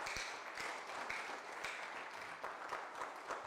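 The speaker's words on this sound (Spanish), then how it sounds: "Denle un fuerte aplauso al Señor, mis amables hermanos." A church congregation applauds, dense clapping carrying steadily through the whole stretch at moderate distance with no voices on top.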